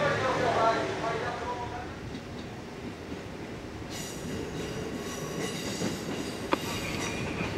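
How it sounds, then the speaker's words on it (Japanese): A JR Kisei Line train pulls into Kumanoshi station on a busy fireworks-festival evening, rumbling wheels and a faint squeal under a platform announcement and crowd noise. "まもなく到着の列車が亀山行きとなります。"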